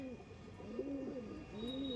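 Pigeons coo softly in a loft, a few low, rolling calls repeating one after another, fairly quiet and close, with no talking over them.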